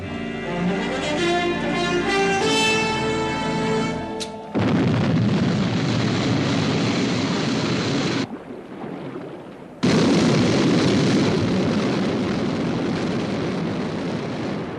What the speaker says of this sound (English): Stand by for liftoff.